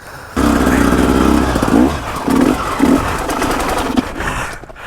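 A motorcycle engine revs on a rocky hill climb ride, cutting in loud and close, then rising and falling in several throttle bursts with a rough, throbbing note over rumbling terrain.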